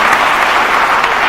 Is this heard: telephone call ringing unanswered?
no